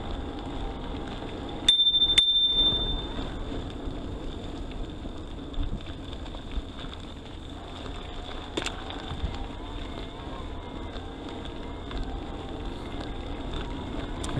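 A bicycle bell on a Riese & Muller Tinker compact Bosch eBike rings once with a brief bright ding during a trail ride, then fades into steady wind and rolling noise.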